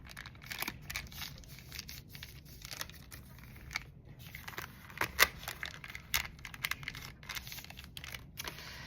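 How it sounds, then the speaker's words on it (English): A brown paper bag is folded in half by hand, giving soft crinkling and crisp creasing taps, quiet and close, with a sharper crackle midway. "I'm going to fold the bag in half."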